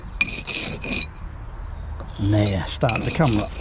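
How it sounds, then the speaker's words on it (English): A trowel scrapes excess mortar off a brick in rasping strokes, several short scrapes near and fairly loud, with someone talking over the later part. "So I'll scrape the brick. I'm scraping the brick."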